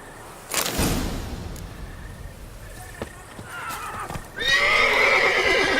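A horse whinnies and snorts in The Witcher 3, a loud breathy neigh rising near the end. Softer rustling and movement come before it, with no speech.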